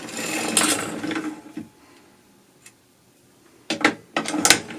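A hand-cranked sock knitting machine clatters in two bursts of rapid mechanical rattling as the crank turns and needles are lowered, separated by a short quiet pause with a single click.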